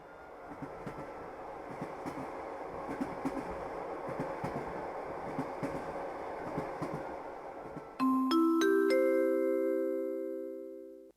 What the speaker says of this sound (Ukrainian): Потяг Різдвяний експрес відправляється зі станції заповіт.